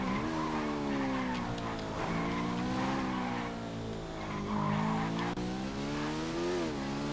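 A car in GTA NoPixel brakes hard, its tires squealing in a loud, sustained, wavering screech over the steady engine roar, continuing unbroken for several seconds.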